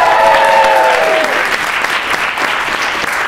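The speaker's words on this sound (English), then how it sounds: "and the crowd goes wild" An auditorium crowd at the FameLab Ireland 2015 science communication final bursts into loud, sustained applause and cheering, with a brief electronic sting fading at the start.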